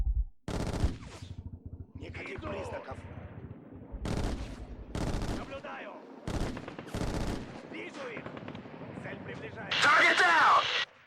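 Gunfire in the shooter game Black: several loud bursts of automatic fire and single shots in close succession, separated by brief gaps, with a voice talking over parts of the action.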